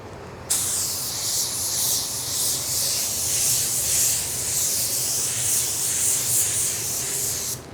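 A paint spray gun lays Spies Hecker automotive refinish onto a car door, a steady, close, loud hiss that begins abruptly and runs almost unbroken to the end, with no talking.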